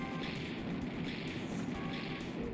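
A self-destruct explosion attack in a Pokémon-style video game sounds as a dense, sustained roaring blast, a broad crackling wash with low thumps that stays loud and even for the whole stretch and has no voice over it.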